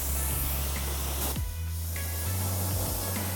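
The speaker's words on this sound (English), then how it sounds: "now that we clean the barrels, we can rinse the rim down" A steady, loud hiss of water spray rinses a car wheel rim, a continuous close jet that shifts briefly as it moves across the metal.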